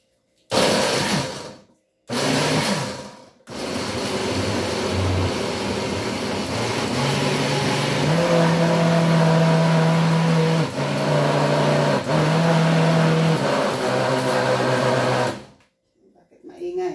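A blender on pulse blending an avocado drink, a loud continuous motor whir with short gaps at the start, steady pitched droning and shifting tones, then cutting off near the end.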